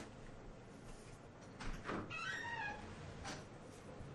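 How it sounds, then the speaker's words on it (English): A house cat meows a couple of times, a drawn-out wavering call rising faintly out of quiet room noise, alone without talk. "Dang cat."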